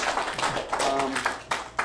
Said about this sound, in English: I think we should have a round of applause for our previous three speakers